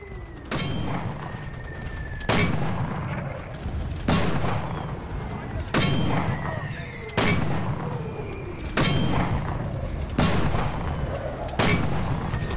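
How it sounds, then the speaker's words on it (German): Artillery fires in the WWII game Enlisted: about seven heavy booming blasts at regular intervals of roughly one and a half to two seconds, each decaying into rumble, with faint background battle noise between them. "Total unnütze Artillerie."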